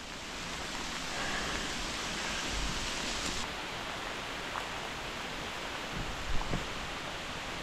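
Hail pattering steadily through a forest during a storm, a dense, even patter on leaves and ground with a few sharper close knocks near the end.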